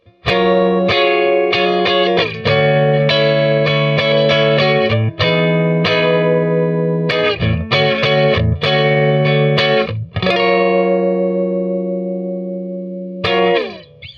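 A clean electric guitar plays a melodic passage on a Mustang's neck pickup alone, with warm, rounded tone, notes ringing with light effects, loud and close with no talking.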